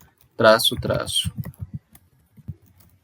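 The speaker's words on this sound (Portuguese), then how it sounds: "Então nós vamos digitar SAS" A command typed on a computer keyboard: a brief voice at the start gives way to a quick run of clicking keystrokes that thins into a few sparse taps.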